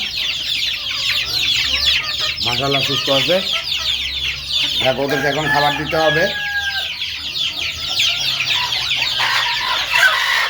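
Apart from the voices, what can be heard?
chickens and chicks clucking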